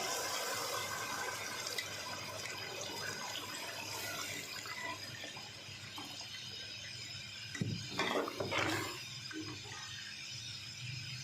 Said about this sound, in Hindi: अब इसमें 1 लीटर पानी शामिल कर देंगे।